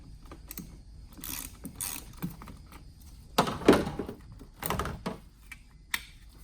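Quick ratchet clicks from a hand ratchet loosening a 10mm battery terminal nut on a Nissan Rogue, heard as short bursts of close metallic ticking with pauses between strokes, no talking.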